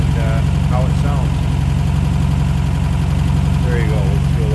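A 1972 Porsche 914/4's mid-mounted flat-four idles steadily and smoothly, a loud, even low thrum close by with faint birdsong-like chirps drifting over it.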